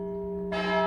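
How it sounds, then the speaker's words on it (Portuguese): A church bell in Burford rings out with a sustained resonant tone, and a second strike blooms brightly over the lingering hum of the first. "O sino está tocando."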